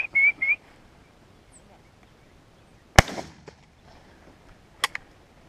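A single loud shotgun blast cracks out during a dove hunt in open country, followed by a faint echo and a couple of softer pops. Brief voices come before it.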